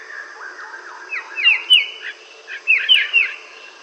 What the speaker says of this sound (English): White-headed starling is a distinctive bird with a white head, white breast, and grey back.